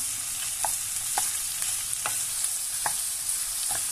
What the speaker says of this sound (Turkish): Şöyle sarımsağımı da üzerine atıyorum. Karıştırmaya devam ediyorum.